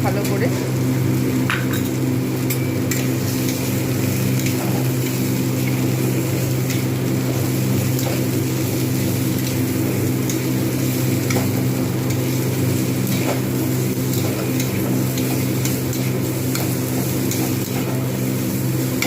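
Chili powder and turmeric fry with spices in a pan for a rohu fish-roe fritter curry, giving a loud continuous sizzle over a steady low hum, with faint stirring clicks throughout.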